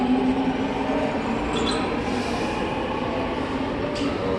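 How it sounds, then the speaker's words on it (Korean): A subway train rumbles on the platform of Noeun metro station with a loud, continuous roar under the ground, a faint high wheel squeal and a brief metallic ring partway through. "여기는 노은 지하철역 지하입니다 아, 지하기보다는 노은역 승강장입니다"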